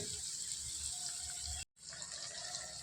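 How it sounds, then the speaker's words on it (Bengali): Water is poured into a paneer posto curry of capsicum, tomato and poppy-seed paste, a steady close rushing pour that cuts off briefly and resumes, with no voices. "একটু জল দিয়ে দিলাম"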